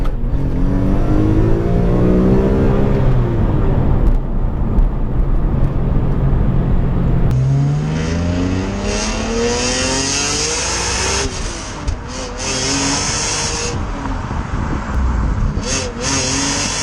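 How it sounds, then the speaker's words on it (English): A 2004 BMW E46 M3 with its S54 engine and quad exhaust accelerates hard, the engine note climbing through the revs in loud sweeps with a brief drop at a gear change midway, close and continuous. "the noise from that quad core exhaust system, it sounds lovely."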